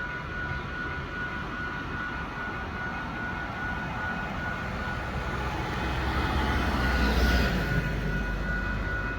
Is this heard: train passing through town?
yes